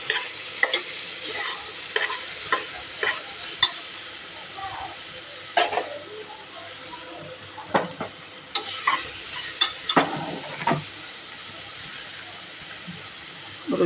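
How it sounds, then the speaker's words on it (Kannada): Fresh coconut roasts in ghee in a pan, a soft steady sizzle punctuated by repeated spatula scrapes and knocks as it is stirred. "ಹಸಿ ಕೊಬ್ಬರಿ ಹಾಕ್ಬೇಕು. ಅದನ್ನು ಸ್ವಲ್ಪ ತುಪ್ಪದಾಗ ಹಿಂಗೆ ಹುರ್ಕೋಬೇಕು"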